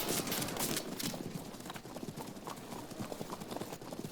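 Galloping horses of Hunnic horse archers in the Field of Glory 2 video game, a steady flurry of clip-clop hoofbeats at moderate volume with faint background noise.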